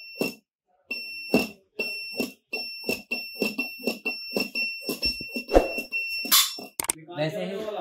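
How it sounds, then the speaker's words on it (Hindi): A smart fan safety device buzzer sounding a loud, rapid electronic beeping alarm in repeated pulses at an exhibition, with a steady high tone running through it and a person talking near the end. "बजर बीप करने लग जाएगा और लाइट ग्लो करने लग जाएगी"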